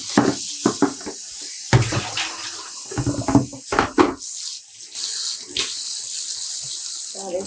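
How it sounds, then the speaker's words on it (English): Running tap water splashing and gurgling in irregular bursts, with handling noises as dyed embroidery yarn is rinsed under the stream, close by. "Now we're going to give it another quick rinse."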